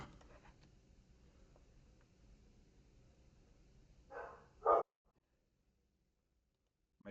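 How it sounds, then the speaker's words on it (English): A dog barks indoors, two quick barks that rise out of a low, quiet room background, followed by near silence. "My dog is barking."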